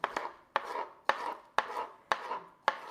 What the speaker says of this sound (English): if your capsicum's really big, cut the strip in half